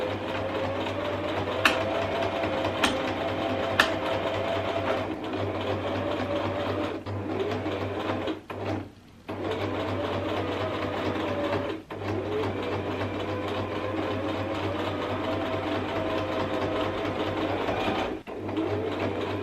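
A sewing machine runs in long steady bursts while stitching cushion fabric, a close, even mechanical whir with a low motor hum, pausing briefly twice before starting again, with a few faint clicks and no talking.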